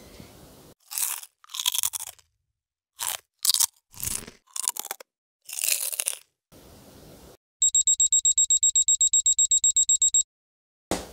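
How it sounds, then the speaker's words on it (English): A kitchen timer on a countertop beeps rapidly in a steady electronic pulse for about three seconds, clear and close, following crunching and tapping sounds from someone handling hard-boiled eggs in a kitchen. "The 15-minute timer went off."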